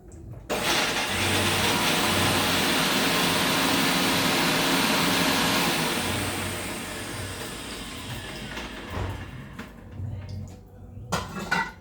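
A small mixer-grinder jar crushing garlic and ginger, a loud continuous motor roar in short bursts that gives way to rattling and clattering as it stops, close by with no talk.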